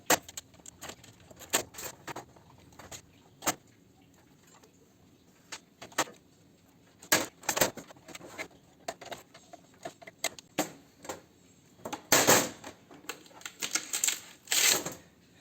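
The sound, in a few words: side cutters cutting thin gauge wire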